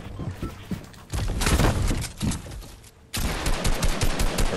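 Gunfire in Red Dead Redemption 2: loud, close bursts of rapid shots with a short lull, then another sustained volley of quick reports.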